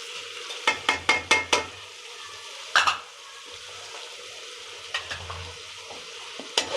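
Spices stir-fry in a pan with turmeric, ginger, chilli and salt, a spoon scraping in quick bursts of four or five strokes over a low sizzle, loud and close, pausing between bursts.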